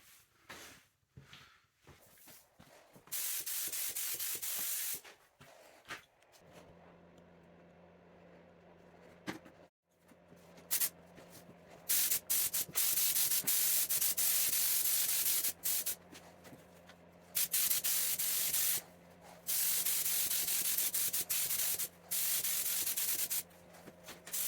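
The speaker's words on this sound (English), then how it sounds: "So I'm just going to spray the end, and hopefully that'll just feather it out a little bit." Several bursts of hissing blend thinner from a spray gun over base coat and lacquer on an Aston Martin DB7 sill, each a few seconds long, separated by pauses with faint handling noises.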